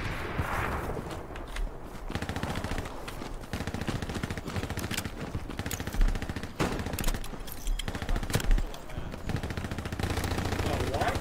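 Dense gunfire from the World War II shooter Hell Let Loose: sustained machine-gun bursts and scattered rifle shots crackle throughout, with a few louder close reports and someone talking over the fighting.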